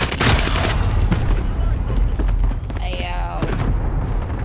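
Video game gunfire crackles in dense bursts throughout a multiplayer match, with rapid shots and booms layered under players talking over each other.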